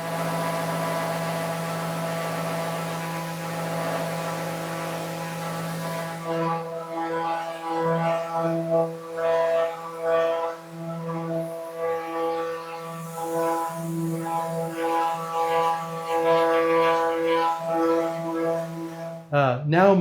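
An electric sander works over a wooden cabinet door being refinished. Its steady tonal hum runs alone for several seconds, then continues beneath a person talking.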